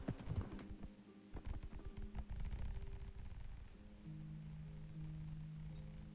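Horse hooves clip-clop at a steady riding pace in the medieval video game Kingdom Come Deliverance, loud and close at first with scattered tonal game sounds layered over the footfalls.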